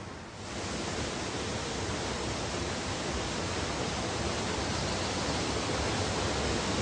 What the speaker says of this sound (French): une vallée avec l'une des plus belles cascades du monde, St. Nectan's Glen